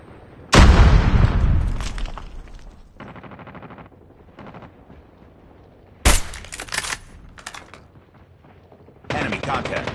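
A loud grenade explosion opens, followed by bursts of rapid gunfire and another blast in a military shooter video game, with shouted callouts mixed in.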